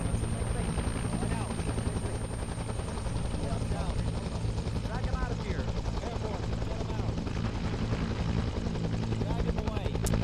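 A helicopter in a Vietnam War video game flies close by, its rotor throbbing in a steady, loud, continuous drone that fills the whole stretch with no let-up.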